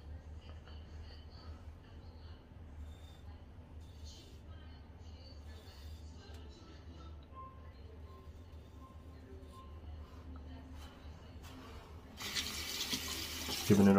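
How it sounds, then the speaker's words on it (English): After a long, quiet stretch of low room hum, a tap suddenly gushes loudly for the final two seconds, rinsing a straight razor. "Giving it a rinse."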